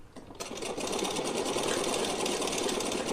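A sewing machine runs steadily, stitching cloth for a small Laddu Gopal festival dress, with a fast, even whirring hum that starts after a brief quiet moment and continues without a break.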